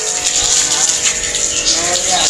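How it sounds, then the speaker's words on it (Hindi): Water splashing and pouring while mud is being washed off, a close, loud, continuous hiss with fluctuating spray texture, mixed with faint background voices. "भाई वाश कर रहा है, पानी काफ़ी गिर रहा है।"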